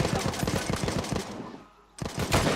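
Rapid video game gunfire crackles close and loud in fast bursts, pausing briefly before another burst resumes.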